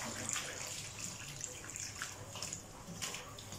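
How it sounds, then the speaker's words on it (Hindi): Water is poured over the tiled walls of a bathroom during a deep clean, giving a continuous splashing, running-water wash with small irregular spatters, close and fairly quiet, with no talk. "पर दीवारों पे बस सारा पानी हम डाल देंगे ताकि ये अच्छी तरह से वॉश हो जाए"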